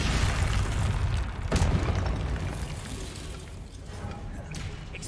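A Confringo blasting spell explodes in the Hogwarts Legacy video game, a deep booming burst near the start that fades into a rumbling tail.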